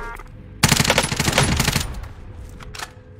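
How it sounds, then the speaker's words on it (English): Burst of automatic gunfire in a shooting video game, loud and dense for over a second, then tapering off, followed by a few scattered faint shots, with no talk. "He was shooting at me, bro."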